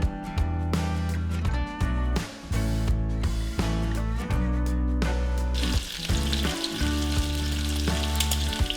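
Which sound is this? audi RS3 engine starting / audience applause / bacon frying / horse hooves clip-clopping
bacon frying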